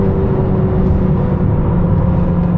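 A 2022 McLaren GT under hard acceleration, its engine a steady, loud low rumble and whir droning close and continuous from start to finish with no talk over it.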